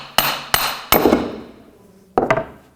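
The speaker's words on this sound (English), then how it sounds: "Sometimes you'll need a hammer to persuade it." A hammer strikes a fan clutch on a 1997-2003 Ford F-150 to knock it loose from the fan, four sharp metallic blows close by, the first three quick, then a pause before the last, each ringing briefly.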